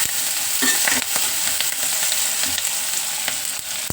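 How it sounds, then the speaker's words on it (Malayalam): Ingredients, including washed curry leaves, frying and being stirred in a pan, a loud constant sizzle with occasional scraping strokes of the spoon, with no voices. "ഇതെല്ലാം ഇട്ട് കരിയാതെ നമുക്ക് മൂപ്പിച്ചെടുക്കാം"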